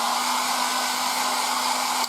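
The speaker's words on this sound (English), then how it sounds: "Alright, so now with the air dryer again, let's pull a little out." A hair dryer blows steadily and loudly on a 1:35 scale Takom model to dry paint, a constant whooshing roar with a steady motor hum, running alone until it cuts off near the end.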